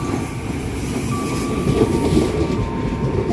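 A CRRC-built electric commuter train rumbles steadily past at close range in Indonesia, with rail noise, a faint wheel squeal and a continuous roar throughout.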